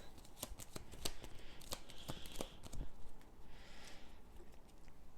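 Cards for a Game of Thrones board game are shuffled close by, a run of quick crisp riffling snaps and flutters, fairly quiet with no talk over them.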